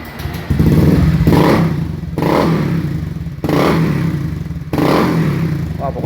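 Honda Beat FI scooter engine revved four times in separate bursts, each rise slow and lagging from a steady idle, showing sluggish throttle response, loud and close with no talk.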